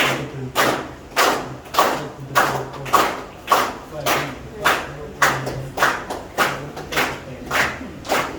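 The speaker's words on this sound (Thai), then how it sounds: "ขอเชิญทุกท่านปรบมือต้อนรับก่อนครับ" An audience claps in welcome in slow, unison rhythm, about fifteen loud, evenly spaced collective claps, each a sharp burst, with a faint low hum underneath.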